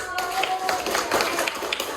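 Group of children clapping in an Islamic primary school classroom during a fiqh lesson, a steady burst of overlapping claps with children's voices mixed in.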